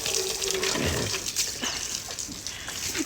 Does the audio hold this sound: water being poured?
yes